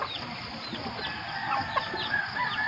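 A fighting-cock breed hen close to laying, clucking softly in short calls over steady outdoor background noise, fairly faint with no talk.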